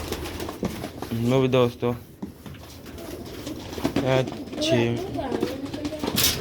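Hobbyist's birds coo in repeated rounded calls, a couple of clear bursts near the start and middle, while someone talks over and between them.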